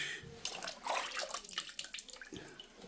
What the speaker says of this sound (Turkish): Şöyle suyumuzu şuraya koyalım.